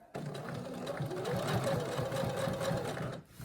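A sewing machine hums and stitches steadily at close range as it sews elastic fabric for a scrunchie, a continuous rapid mechanical whir that runs for a few seconds, then stops.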